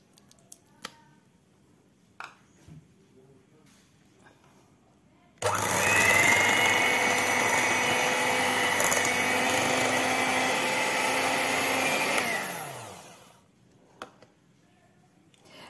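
An electric hand mixer whirs steadily for several seconds, beating cake batter with strawberry jam for a Christmas fruit and rum cake, then winds down to stop, loud and close, with quiet kitchen noise before and after.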